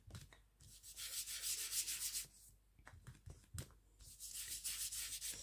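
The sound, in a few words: paintbrush spreading paint for a background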